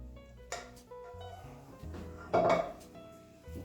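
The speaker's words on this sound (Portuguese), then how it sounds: "Olha como é bom você usar a espátula. Ela já dá uma limpada aqui na sua panela." A spatula scrapes thick brigadeiro from a pan, giving soft rubbing scrapes and light clinks of the pan, with one louder scrape toward the end.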